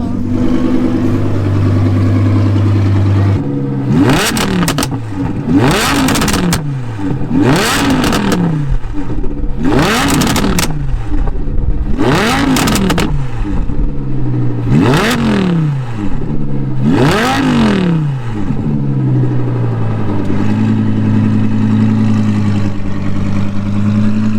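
An Audi R8 V10 at a cars and coffee meet blips its engine about seven times in a steady rhythm, each loud rev rising sharply and falling back to a rumbling idle, close by.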